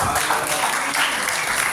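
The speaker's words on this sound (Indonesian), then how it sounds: "Tepuk tangan, saudara." A church congregation applauding together, a dense, steady wash of many hands clapping that holds evenly at close range for the whole stretch with no voices on top.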